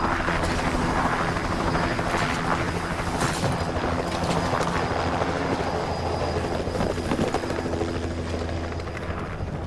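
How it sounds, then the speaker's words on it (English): A steady, loud video-game helicopter drone with chopping rotor texture fills the whole stretch, continuous and close, with no talking over it. "They're proud enough of the helicopter to like stare up at it."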